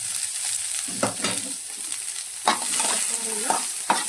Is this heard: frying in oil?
yes